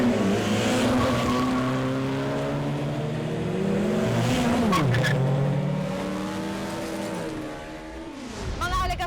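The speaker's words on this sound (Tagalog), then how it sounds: "ang paglaganap ng iligal na karera ng mga sasakyan." Cars revving and accelerating hard during an illegal street race, engines rising and falling in pitch as they pass, with some tire squeal, loud and close, while someone narrates over the engine noise.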